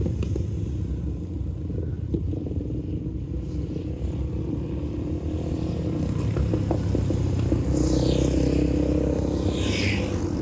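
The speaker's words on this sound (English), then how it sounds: "Got a whole motorcycle gang here." Supermoto motorcycles ride through a dirt track berm corner, engines rumbling at a distance and rising into a louder revving pass toward the end.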